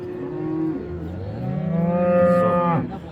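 Cows with calves low loudly and close by at a livestock market in Qumtepa, Qoʻshtepa district, Fergana region, one long drawn-out moo rising and swelling over a low crowd murmur.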